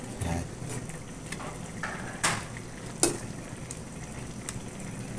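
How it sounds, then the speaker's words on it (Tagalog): Mixed vegetables with shrimp paste stirred in a sizzling pan: steady frying hiss with a few sharp clinks of a utensil against the pan, close up. "Tapos haluin lang natin."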